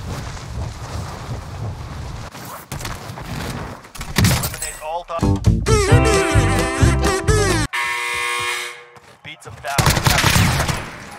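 A Groza rifle in Cold War Warzone fires in bursts among layered game noise, with sharp shots, tonal effects and a voice talking over parts of the action.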